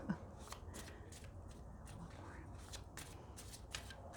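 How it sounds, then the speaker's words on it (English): Lenormand card deck being shuffled by hand, a steady run of soft riffling card flutters and slaps repeating through the whole stretch, close and fairly quiet. "We're shuffling."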